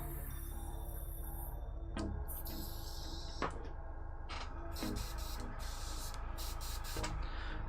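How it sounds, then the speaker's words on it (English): Airbrush purged with ordinary hobby paint, giving several short hissing sprays in quick bursts at close range, with quiet room noise between them. "just going to purge the airbrush"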